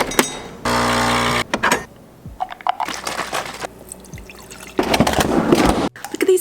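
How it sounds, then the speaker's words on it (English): Caramel brulee coffee being made with hexagon ice cubes nearby: liquid pours and drips in short bursts, with a steady dispensing hum and crunchy clatter between pours, close and fairly loud. "let's make some coffee"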